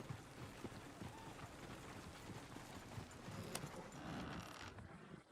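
Horse hooves clip-clopping along in Red Dead Redemption 2, a steady uneven patter of hoofbeats over a busy ambient background of outdoor game sound, moderately loud throughout.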